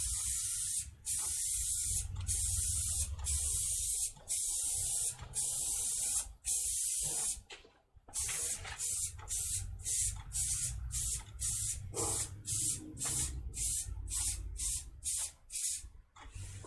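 Electrolube acrylic protective lacquer sprays onto a printer circuit board in many short aerosol bursts, close and loud, sometimes joined into longer hisses, with a low background rumble beneath.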